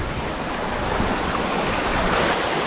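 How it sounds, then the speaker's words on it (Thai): Steady rushing and babbling of a small jungle stream near Chiang Mai flowing continuously nearby, with no voices. "มาอยู่บริเวณลำธารนนะลำธารเล็ก ๆนะ"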